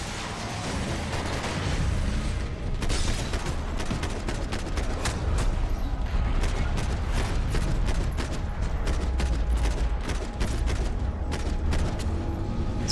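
Heavy gunfire in Max Payne 3 during a shoot-the-driver event, with dense overlapping shots and sharp cracks over a steady rumbling vehicle backdrop, loud and near throughout.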